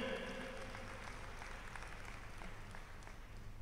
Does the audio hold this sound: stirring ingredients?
no